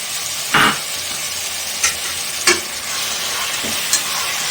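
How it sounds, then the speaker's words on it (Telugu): Chicken and a few small tomatoes stirred in a hot pan, giving a steady sizzle with several sharp scraping strokes spaced a second or so apart, close and fairly loud, with no talking. "మూడు వేసేసి ఇలాగ కొంచెం మిక్స్ చేసేసుకుందాం ఇలా"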